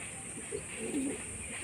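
Low, soft cooing from an old-line Madras pigeon kept at home, a few murmuring coos close by under steady background hiss, with no talking.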